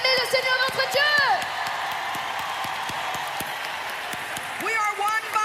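A church congregation cheering and applauding during a sermon, whoops and clapping from a crowd in a large hall, loudest at the start and again near the end, with a preacher's voice heard over it.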